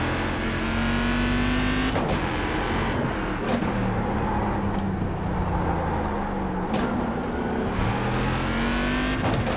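A GT1 race car engine in iRacing drones loudly and continuously, its pitch climbing through the gears and dropping sharply at several shifts, with no talking over it.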